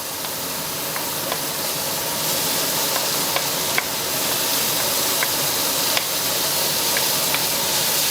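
Onion frying in a pan with chicken stock, a steady loud sizzle and hiss with faint scattered ticks and clinks, no voices.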